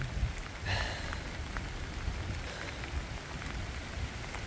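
Steady rain falls during a heavy downpour, a continuous hiss of drops with occasional closer taps on a surface and a low background rumble.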